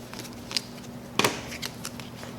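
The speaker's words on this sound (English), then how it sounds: "we're going to just shuffle and then draw 5 new cards." Dominion playing cards being shuffled for a new hand: two quick riffling bursts, a short one near the start and a louder, fuller one in the middle, with small card taps in between and no talking.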